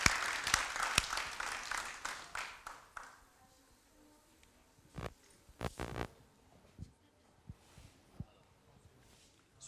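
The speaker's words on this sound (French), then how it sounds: "On va continuer à les applaudir" An audience applauds performers as they walk onto a stage at a televised variety show, a dense burst of clapping that thins into scattered claps and thumps.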